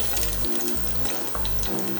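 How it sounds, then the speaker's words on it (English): Diced onion goes into a hot pan with coconut oil for Ghana-style bulgur wheat, giving a steady watery hiss and sizzle with low rumbling bursts, loud and close, no talking. "So I am going to add my diced onion."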